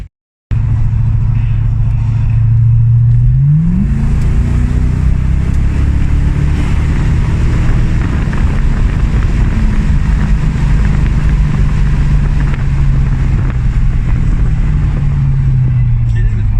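A Corvette C4 pulls away, its V8 engine rumbling loud and close from the cabin, the pitch climbing through the gears, then holding a steady drone; voices talk briefly over the engine.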